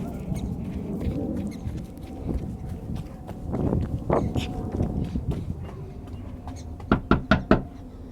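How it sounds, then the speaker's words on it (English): Knuckles rap a door three times in quick succession near the end, loud and close, after several seconds of shuffling movement and handling noise. "I'm knocking on this door."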